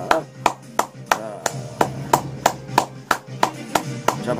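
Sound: audience applause

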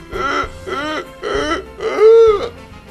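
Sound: voice imitating a donkey bray

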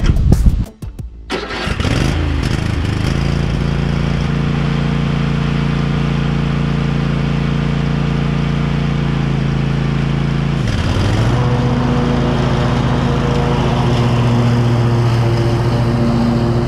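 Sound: Cub Cadet XT1 riding mower engine starting and running

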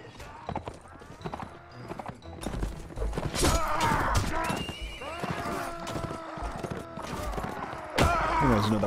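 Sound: horse neighing in battle, from video game Mount & Blade

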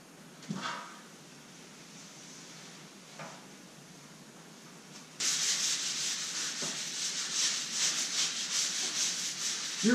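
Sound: sanding truck paint with sandpaper

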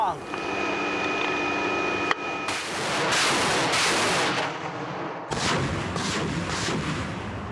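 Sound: artillery ranging shots

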